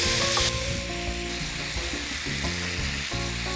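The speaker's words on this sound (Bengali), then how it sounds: "আমরা চিকেনটা দিয়ে দিচ্ছি। চিকেনটা পুরো কি ভেজে ফেলবো না হাফ ডান করব?" Chicken pieces fry in a pan while being partly cooked for biryani, giving a loud, continuous sizzle that is close and steady. Stirring adds a brief scraping flurry near the start.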